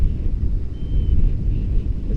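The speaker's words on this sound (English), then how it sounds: "So this wind still getting strong." Strong, gusty wind of about 15 knots buffets a paraglider in flight, a dense, steady low roar with rushing rumble close to the microphone throughout, and no voices.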